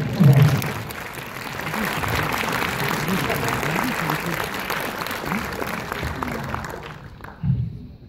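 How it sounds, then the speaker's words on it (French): Sustained clapping from an audience rolls on under a voice, then fades out near the end. "On peut l'applaudir."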